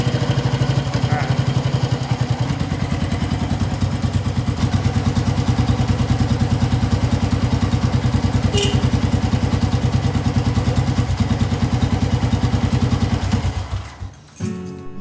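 A motorcycle engine runs loud and close with a steady, rattling throb, then cuts out near the end.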